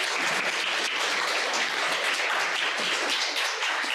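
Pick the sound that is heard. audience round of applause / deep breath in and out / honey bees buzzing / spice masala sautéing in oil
audience round of applause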